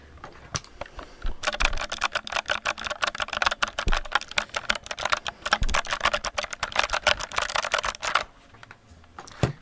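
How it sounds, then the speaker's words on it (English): Rapid, continuous typing on a mechanical keyboard's switches, close and crisp, with dense clacking keystrokes for several seconds before stopping. "Let me hear the keys, King."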